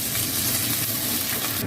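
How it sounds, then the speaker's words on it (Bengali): Chopped onion sizzling loudly in hot oil in a wok right after nigella seeds are tempered, a dense continuous frying hiss heard up close with no talk. "ফোড়নটা হয়ে গেছে, পেঁয়াজ কুচোটা দিয়ে দিলাম।"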